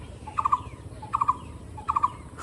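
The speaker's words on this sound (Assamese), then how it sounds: "চৰাই মাতি আছে মুখৰ আগতে চৰাই মাতি আছে" A bird calls from a tree beside a treetop house, three clear bursts of quick, bright triple notes spaced evenly apart, fairly close against a quiet outdoor background with no talking.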